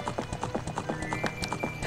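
Horse galloping in The Legend of Zelda: Ocarina of Time, a quick, steady run of hoofbeat clip-clops with a short neigh, loud and close, with no talk over it.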